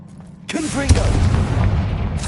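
Confringo blasting spell cast in a wizarding video game, one booming burst with a fiery whoosh and rumbling tail, loud and close, with ambient game sound around it.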